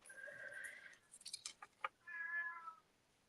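A cat meows twice close by in a quiet indoor room, a drawn-out call, then a short rustle of movement and clicks, then a second long meow.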